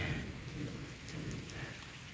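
Heavy rain pours steadily during a rural rice-field ploughing session, a dense, even wash of drops on surfaces that holds at the same level throughout, with no voices.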